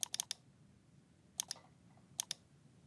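Computer mouse clicks while working in Inkscape: three small groups of sharp, quick clicks, close and quiet over a low background hum.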